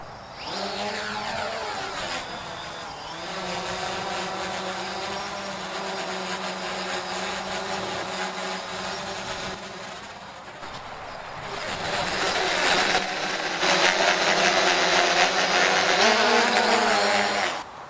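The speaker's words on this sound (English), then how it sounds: "I can unlock the drone by putting the handle down and to the right, and then I'm supposed to just take off." CX-20 quadcopter drone carrying a gimbal and GoPro, its rotors whining steadily throughout, growing louder and fuller near the end as it climbs.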